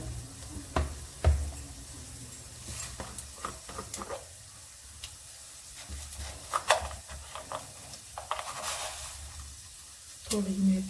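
Cumin seeds crackle and sizzle in hot oil, with a soft steady hiss broken by scattered sharp pops and a few clinks of a spoon, fairly close and moderately quiet.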